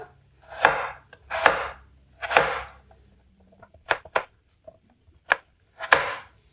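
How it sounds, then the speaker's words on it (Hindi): A kitchen knife chops potatoes on a board: about eight crisp, close thuds in irregular bursts, some grouped in quick pairs, with quiet gaps between and no voices. "इस तरह आपने कटिंग करनी है आलूओं की"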